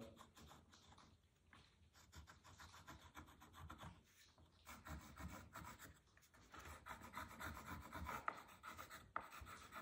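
Pencil scratching and rubbing along a wooden frame of a small sailboat under construction, quiet close strokes with short pauses between them.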